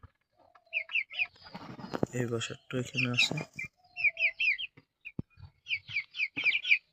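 Native hens and their chicks nearby give repeated soft clucks and short high chirps in scattered bursts, with a person talking in between.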